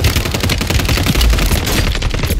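Loud, dense video game gunfire fills the whole stretch, rapid automatic bursts overlapping into a continuous fusillade with heavy low thumps, close and sustained without pause.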